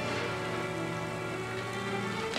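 Rain falls steadily in an even, soft hiss over a low sustained tone, faint and continuous, with no one speaking.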